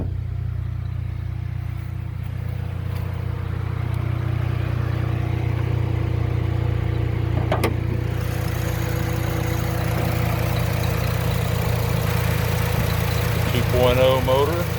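A 2009 Honda Civic Si coupe with a manual gearbox and its 2.0-litre i-VTEC engine idles steadily under an open hood, a constant low drone with faint mechanical ticking close by.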